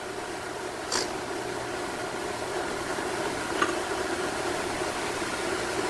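A Darex V390 industrial drill sharpener grinds a drill bit as the chuck is turned clockwise, a steady faint motor hum and hiss with two brief scraping ticks, no voices.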